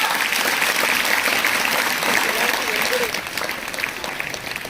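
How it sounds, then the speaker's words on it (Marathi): An audience at the inauguration of a competitive-exam guidance centre claps for an arriving guest, a dense continuous patter of many hands that eases slightly toward the end. "अरे आपले दाजी आले, जरा टाळ्या वाजवा"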